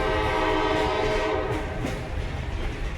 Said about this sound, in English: You're going to hear two long, one short, and one long blast on the horn.